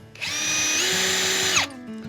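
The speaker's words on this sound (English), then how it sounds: "Now I've used an 18mm drill bit" A power drill bores a hole with an 18mm bit, a loud, steady whine that rises in pitch partway through, lasting about a second and a half before spinning down and stopping.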